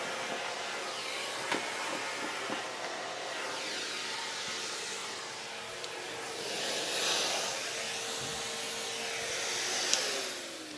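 A Henry canister vacuum cleaner runs with a steady rushing whine while picking up large clumps of hair, the airflow rising and briefly changing pitch as it draws in debris.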